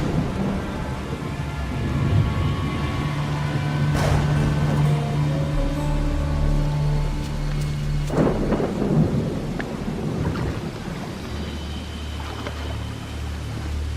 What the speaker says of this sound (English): Let's send this storm straight to Hades!